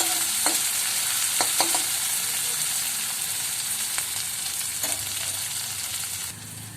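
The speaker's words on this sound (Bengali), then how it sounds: "এখন এগুলোকে খুন্তি দিয়ে একটু নেড়ে নিলাম" Green chillies frying in a pan with steady sizzling, stirred with a metal spatula that gives several sharp scrapes and taps throughout, close and fairly loud with no talking.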